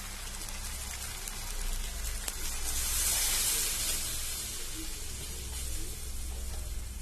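A steady hiss of chicken curry simmering and bubbling with water in a pan, swelling slightly in the middle and then settling, with no voices.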